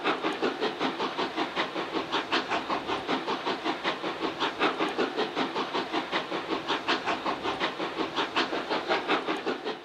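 A French 141R steam locomotive working hard, its exhaust beats chuffing in a steady, rapid rhythm with a continuous hiss of steam, loud and close, no voices.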